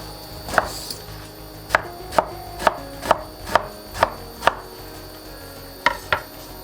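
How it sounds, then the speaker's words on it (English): Knife chopping through eggplant on a cutting board after the ends are trimmed and the skin peeled, for pasta alla Norma: about ten sharp, close knocks in a steady rhythm, then a short pause and two more cuts. "just got both ends and just give it a little quick peel."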